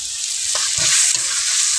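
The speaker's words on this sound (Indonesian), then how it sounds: "Ini goreng tempe guys" Tempe frying in hot oil for a beef tongseng dish, giving a steady dense sizzle with a few soft stirring scrapes, close and continuous with no talking.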